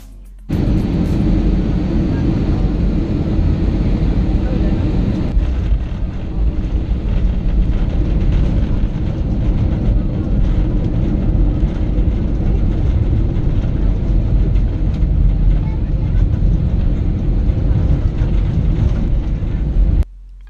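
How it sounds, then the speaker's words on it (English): Steady, loud broadband roar inside a Citilink Indonesia airliner cabin on approach to Denpasar's runway 09 in Bali, a continuous engine and airflow rumble with no talk. "After a short but pleasant flight, we're on approach to Denpasar's runway"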